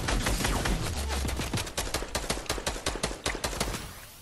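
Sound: gunfire from a video game

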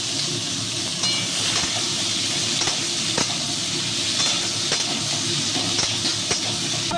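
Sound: vegetables frying in a pan

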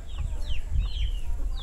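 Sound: free range chickens clucking

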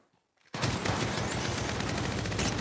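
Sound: gunfire in Apex Legends Mobile video game

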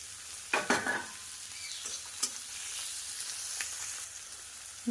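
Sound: chopped onion frying with whole garam masala

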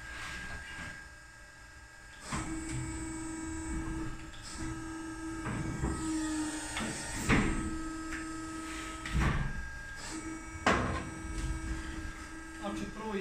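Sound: sheet metal pipe-making machine running

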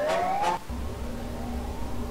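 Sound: alarm siren in a SpongeBob video game

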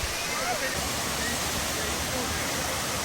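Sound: Powerscourt waterfall in Ireland

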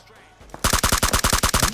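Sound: gunfire in the video game PUBG Mobile

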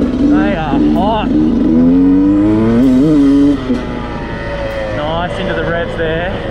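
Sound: Beta 200RR two-stroke enduro motorcycle revving

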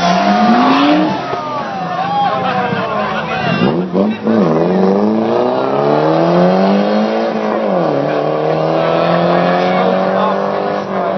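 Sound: cars racing, engines revving

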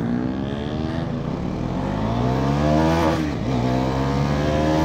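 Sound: Bajaj Pulsar NS400z motorcycle accelerating in drag race

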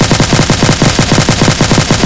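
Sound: gunfire from a weapon in a Blue Archive game addon

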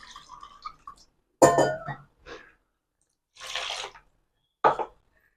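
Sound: rinsing mixer jar with water

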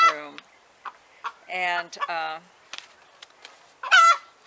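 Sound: pet bird squawking

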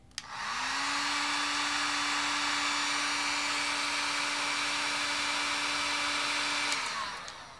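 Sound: heat gun blowing hot air onto thermostat sensor

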